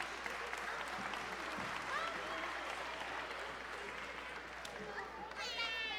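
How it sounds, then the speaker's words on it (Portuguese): A church congregation at a Brazilian service claps for children who have just sung, sustained fairly soft applause spread across the room, with a few voices talking over it. "Uma salva de palmas para eles"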